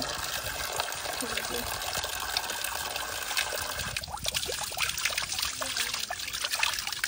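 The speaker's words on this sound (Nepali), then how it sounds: "ल गाइज यहाँ चाहिँ पानीको धारा रहेछ।" Water runs steadily from a roadside water spout in Nepal, a continuous splashing trickle, while people talk intermittently nearby.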